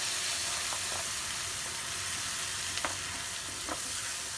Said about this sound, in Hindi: इसमें मसाला अभी फ्राई करने के लिए डाल देंगे।